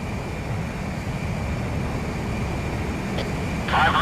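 Fighter jet engine in flight from the video game Ace Combat Zero, a steady broad roar with a faint whine, growing brighter and louder near the end, with no talk.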